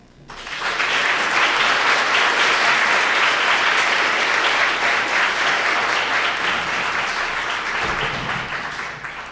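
Sustained applause from an audience for the speakers at a medical grand rounds session on racial injustice, steady and full for about eight seconds before tapering slightly near the end.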